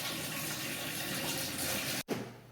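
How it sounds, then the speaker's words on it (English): Warm water runs steadily from a tap into a sink, a close, even rushing hiss that cuts off abruptly near the end, followed by a brief splash and quieter settling water. "To start, I'm going to fill the sink up with warm water"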